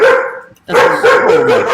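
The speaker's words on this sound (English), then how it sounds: "Oh, that's my dog." A German Shepherd dog barks in a quick run of loud, close barks, following a brief spoken exclamation.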